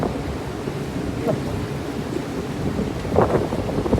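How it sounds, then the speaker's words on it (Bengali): Steady wind and rain roar outdoors in a broad, continuous wash, with a brief louder gust or splash near the end and faint voices underneath. "সুন্দর কিন্তু বাতাস"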